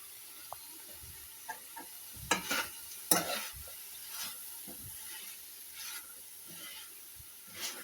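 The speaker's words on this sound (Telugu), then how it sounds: "ఒక్క 2 మినిట్స్ వేసి పచ్చి వాసన రాకుండా ఉండాలని వేసానండి" Cut coconut pieces stirred and fried briefly in a pan for pudina coconut chutney, quiet soft sizzling broken by several distinct spatula scrapes and clinks against the pan, close but faint.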